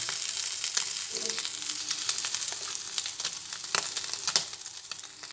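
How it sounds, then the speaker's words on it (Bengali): Amudi fish frying in hot oil in a kadai, a continuous crackling sizzle with sharp pops and spatters scattered throughout, close and fairly loud with no talking. "উল্টে দিয়ে মাছগুলোকে তেল ঝরিয়ে তুলে ফেলছি। দুটো দিকে ভেজে নিলাম।"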